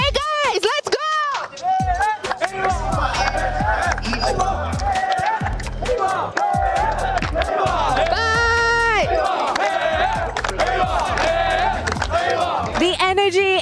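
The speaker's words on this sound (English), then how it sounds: "The energy in the crowd is explosive, it is spicy" Esports arena crowd at a Free Fire grand final roars and cheers loudly and continuously, with a commentator's excited voice riding over the noise.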